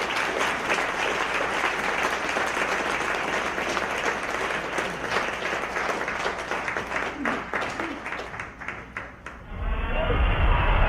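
Audience applause welcoming two presenters, attorney Toby Shook and Judge Brandon Birmingham, at a talk on Jack Ruby: steady, dense clapping fills the room for about nine seconds before fading into a rumbling, noisy room tone.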